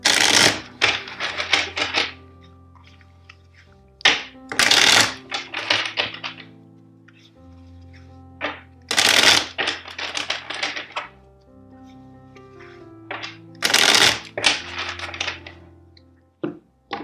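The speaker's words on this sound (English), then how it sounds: "So let's shuffle four times." Tarot cards being shuffled in a series of bursts, each a brisk flurry of riffling and tapping clicks separated by quieter pauses with a low background tone, close and distinct.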